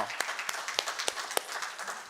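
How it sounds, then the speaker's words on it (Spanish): Small church congregation applauding a visiting guest from Syria, sparse distinct hand claps at an uneven rhythm, fairly close and moderately loud, with no talking. "Un aplauso para él"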